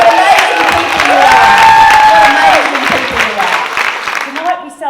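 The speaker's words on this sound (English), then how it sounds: "Give yourselves a round of applause." Loud applause mixed with cheers and whoops from a crowd at an early learning gala awards night, swelling early, holding strong, then tapering off near the end.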